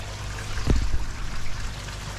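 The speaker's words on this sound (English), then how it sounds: "water from the pond comes through this pipe" Pond water flowing through a pipe into a DIY sieve filter with 250 micron mesh, a steady close trickle with a brief louder splashing gurgle in the middle.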